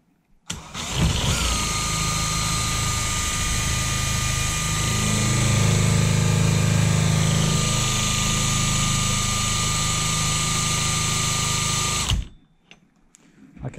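A power drill spins a BMW K100 motorcycle alternator, whirring steadily for about twelve seconds, pitch rising slightly mid-run as it strains under load, then cuts off abruptly.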